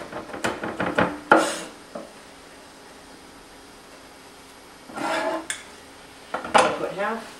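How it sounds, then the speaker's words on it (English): A knife taps and scrapes against a cutting board in short clustered bursts while meat for spaghetti sauce is chopped finer, close up, separated by quiet pauses. "Cut this up a little bit finer."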